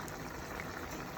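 Liquid for fish paksiw boiling in a covered pot, a continuous close bubbling hiss with no voices over it.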